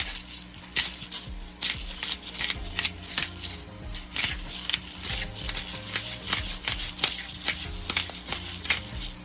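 Ackee and saltfish are stirred in a pan with black pepper, giving a run of scraping, wet stirring strokes over a soft sizzle, close up and irregular in rhythm with no talk.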